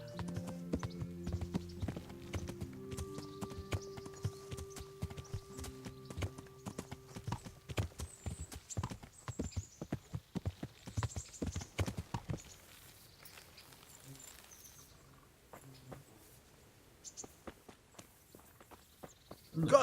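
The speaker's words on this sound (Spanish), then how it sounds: "Me voy a dejar el bueno de caballo." Horse hooves clip-clop at a walking pace in the medieval game Kingdom Come: Deliverance, a close, steady stream of hoof beats over quiet background music, with a soft whinny and the steps thinning out toward the end.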